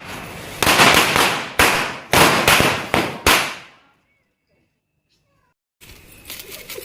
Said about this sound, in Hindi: इतना तेज आवाज़ करा ना सुतली बम